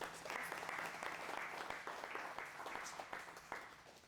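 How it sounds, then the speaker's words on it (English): An audience at a learning center claps together in a sustained round of applause, a steady crowd clatter at moderate level that tapers slightly toward the end. "another round of applause for those people"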